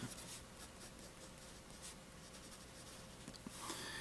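A Jinhao 995 Swan fountain pen with a fine steel nib writing on paper, a faint, steady scratchy rustle of strokes heard up close and alone, with slight quiet handling near the end.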